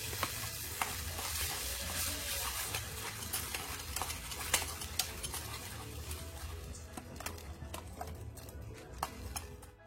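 Sweet and sour sauce with ketchup sizzles in a pan while a spoon stirs it, giving a continuous frying hiss with frequent sharp clicks of the utensil against the pan, fairly close and without voices.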